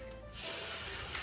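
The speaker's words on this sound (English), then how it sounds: "some people like the act of shaking the spray and the sound it makes" An aerosol spray can releasing a steady hissing spray that starts after a brief quiet moment and continues loud and close for about a second, used while making DIY watercolor bookmarks.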